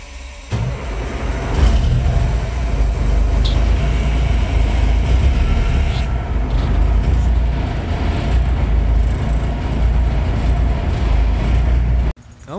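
Peterbilt 359 truck being driven out, a loud continuous low diesel rumble held close for about twelve seconds before cutting off abruptly.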